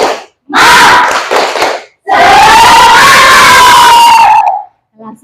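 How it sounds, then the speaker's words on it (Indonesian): A class of fifth-grade children in a school classroom shouts a loud spirit clap chant together before group presentations, in two short bursts and then one long sustained group shout, ending abruptly. "Sebelum maju presentasi, tepuk semangat."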